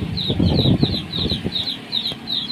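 Pet chickens in barracks flap their wings in quick bursts at feeding time, close and loud, with soft clucks and rustling scattered between the flurries.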